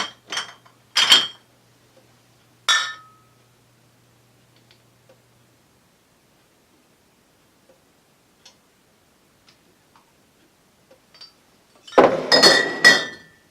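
Glass beer bottles clink during home brew bottling: a few sharp, bright knocks early on, then a long quiet stretch with faint ticks, ending in a louder cluster of rattling glass clatter.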